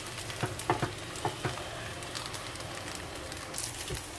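Nasi goreng kampung, rice and cooked egg, sizzles in a hot pan as it is stirred together, a soft continuous frying hiss with a handful of light scraping taps early on, no talk.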